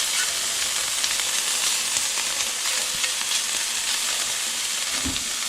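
Morel mushrooms fry in butter in a pan, giving a loud, steady sizzle and hiss that runs throughout, with occasional stirring bumps and no talk.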